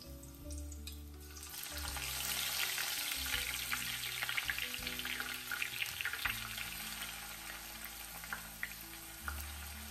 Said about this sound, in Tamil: இப்போ நம்ம வெங்காயத்தை பேட்சஸாக ஃப்ரை பண்ணி எடுத்துக்கலாம்